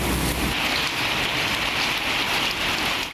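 Heavy rain pouring down during a storm in Azad Kashmir, a dense, steady hiss of falling water drumming on surfaces, loud and unbroken with no voices.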